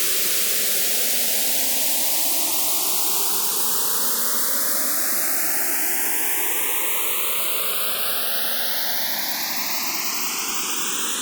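Steady loud white noise with a phaser sweep gliding slowly upward, the hollow whooshing notches rising throughout at constant volume.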